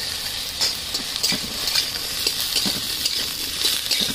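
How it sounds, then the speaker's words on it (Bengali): Aubergine and potato pieces frying together in a pan for a vegetarian greens dish, a constant bright sizzle with soft spoon knocks and stirring scrapes, close with no talking. "দেখুন বেগুনের সঙ্গে কিন্তু কেটে রাখা আলুগুলো দিয়ে দিচ্ছি"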